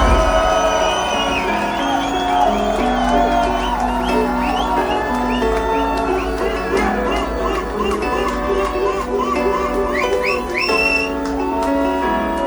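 Concert crowd cheering and whistling for a rapper at a club show, loud sustained whoops and shrill whistles over a continuous roar, with voices shouting.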